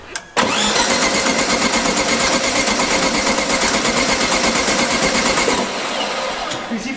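A freshly rebuilt VW Beetle engine cranks over close and loud with a steady rapid chugging rhythm for about five seconds, then carries on at a somewhat lower level.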